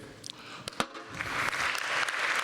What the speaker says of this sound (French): Attendez, parce que là, vous l'applaudissez.